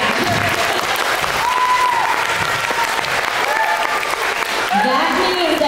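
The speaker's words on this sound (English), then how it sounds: "let's clap for that" A school assembly audience of students claps steadily for several seconds, a dense, loud wash of applause with scattered cheers and voices rising through it.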